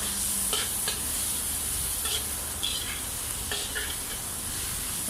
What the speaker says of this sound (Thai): ใส่พริกกระเทียมนะครับ ที่โขลกไว้ทำการผัดให้หอมนะครับ